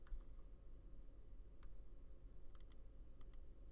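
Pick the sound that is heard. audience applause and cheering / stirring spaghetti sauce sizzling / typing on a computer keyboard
typing on a computer keyboard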